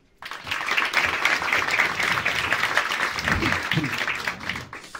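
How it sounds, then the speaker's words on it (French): Audience applause at a comedy club, a steady burst of many hands clapping that starts abruptly and holds, with a few voices calling out beneath it. "Qui est né dans les années 90, début des années 2000 par applaudissement?"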